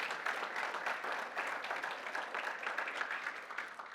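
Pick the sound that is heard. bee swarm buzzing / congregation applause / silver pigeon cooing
congregation applause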